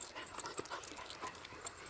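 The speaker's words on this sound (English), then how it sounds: "Well, at least that dog's okay." A dog pants quietly indoors, a faint, quick rhythm of breathy puffs with a slight whimper, heard alone without talk.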